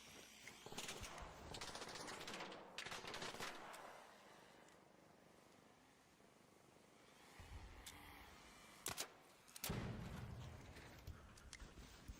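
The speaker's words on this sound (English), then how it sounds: "good shooting there, pal" Bursts of automatic gunfire from a raiding video game, crackling in clusters with quieter gaps between, fairly distant and muffled, with a heavier burst near the end.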